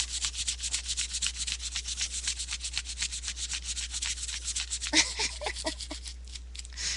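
A nylon stocking buffs a waxed melted-crayon card in quick, even back-and-forth rubbing strokes, close and soft, with a few sharper scuffs near the end.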